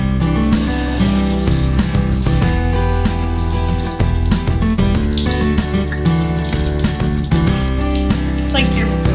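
Water runs hard and steadily from an off-grid home's shower, a loud continuous rushing spray with clattering splashes and faint background noise, with no speech.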